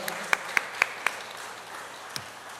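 An audience at a civic culture camp applauds a professor after his talk. The sound is only a few sparse, sharp claps over quiet room tone, then one more clap after a pause.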